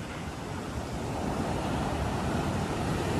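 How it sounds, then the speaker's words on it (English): Waves wash steadily onto a beach at Paia on Maui, a broad continuous roar of surf with wind buffeting the microphone and no voices. "Just a beautiful beach right here."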